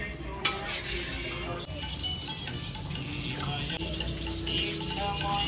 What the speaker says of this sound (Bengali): এখানে কুটি ভাজছে